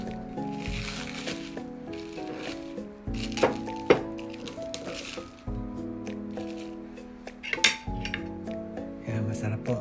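Cooked tulingan fish is scooped from a pot with a few soft wet scrapes and light utensil clinks against the metal, close by, over steady background music.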